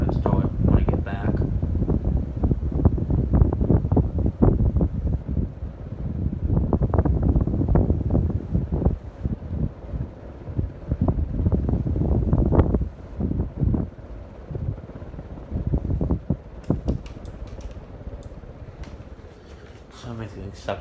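A Casablanca Delta II 50-inch ceiling fan with white blades and a light, running close by with a steady, airy whoosh and uneven gusty buffeting, while a voice talks over it on and off.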